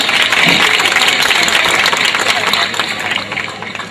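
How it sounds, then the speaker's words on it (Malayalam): A stage comedy show audience applauds with dense, rapid clapping that gradually thins and softens toward the end, with some voices mixed in. "എല്ലാവരും കൈയടിച്ച് പ്രോത്സാഹിപ്പിക്കണം. ഒന്ന് കൈയടിക്കും."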